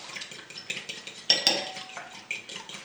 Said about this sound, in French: Le bruit que ça fait. On brasse bien ça.